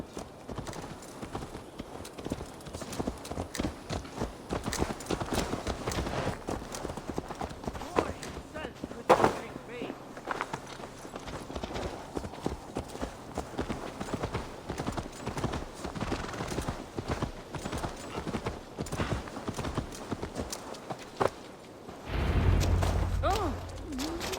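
Horse hooves clip-clop steadily on the ground in Assassin's Creed Valhalla, a continuous rhythmic trot with an occasional whinny, heard alongside game ambience and voices.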